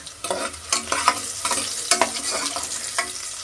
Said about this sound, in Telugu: ఫ్రైడ్ ఆనియన్సా? ఫ్రై చేస్తున్నాను